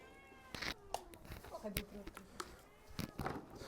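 A cat meows repeatedly at close range on a farm, short insistent cries spread across the moment while people talk nearby.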